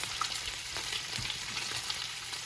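Turkey bacon frying in a pan gives a soft, continuous sizzle with light crackles and pops, steady and fairly quiet, with no voices.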